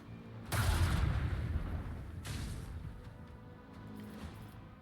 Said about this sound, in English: Right, fire the Prow Lance